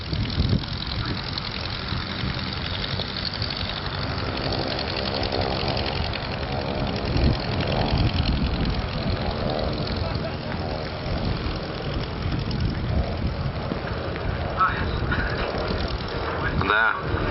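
Piston aircraft engine of a replica Japanese Zero fighter at a 1986 English air show, a steady droning hum that continues throughout, with talk heard over it.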